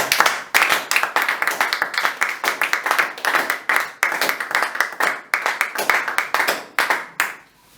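A church congregation claps together in steady rhythmic unison, sharp close hand claps repeating quickly and loudly for several seconds before trailing off at the end.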